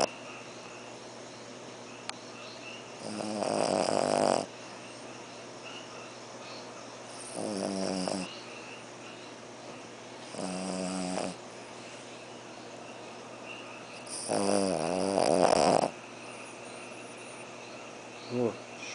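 A pet dog snores in a close, steady rhythm of about four long rasping breaths, each swelling loud and then fading into quiet pauses.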